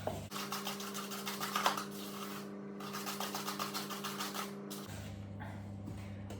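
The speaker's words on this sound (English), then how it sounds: "you just want to be sort of pushing the butter into the sugar, like so, and just keep mixing that" Butter being creamed into sugar by hand in a bowl, giving a steady run of soft rhythmic scraping and rubbing strokes up close, with a constant background hum beneath.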